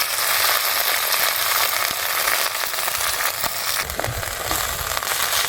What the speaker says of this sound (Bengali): তেলটা গরম হয়ে গেছে, এবার ধনেপাতাগুলো দিয়ে দেবো।